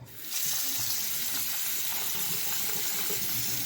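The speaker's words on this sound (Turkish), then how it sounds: "Daha sonra suyumuzu açıyoruz." A tap is turned on and water runs into a bathroom sink fitted with a newly replaced drain trap, a steady close splashing rush that starts abruptly and continues evenly.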